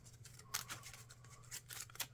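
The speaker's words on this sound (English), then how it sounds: "I'm going to shuffle the deck and then shuffle the villains" Deck of game cards being shuffled for a Marvel Champions tabletop game, quiet riffling flicks and soft papery taps in short irregular bursts, close and faint, no talk.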